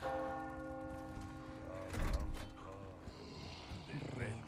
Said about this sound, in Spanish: La campana.